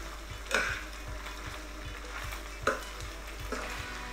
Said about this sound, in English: But in with my grana cheese here. Just mix that in.